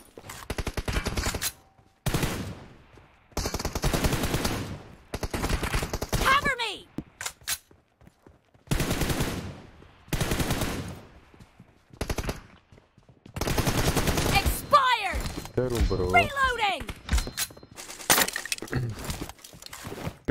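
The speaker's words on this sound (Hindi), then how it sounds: "टीममेट्स वहां से फायरिंग कर रहे हैं ताकि मुझे साउंड ना आए।" PUBG gunfire rattles in repeated automatic bursts separated by short gaps, with some breaking-glass clinks and sharp metallic ricochet sweeps between shots.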